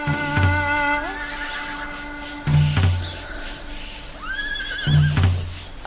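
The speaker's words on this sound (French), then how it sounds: "Ce sont des chevaux." Several horses neigh loudly in an animated cartoon, with repeated whinnies one after another close up, alongside a few soft thuds.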